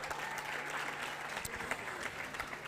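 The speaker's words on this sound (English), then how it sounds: "Let us give them a big round of applause." Crowd at the outdoor launch of a smart pole project in Slovo Park, Soweto, claps steadily, a continuous, moderately loud patter of many hands with no break.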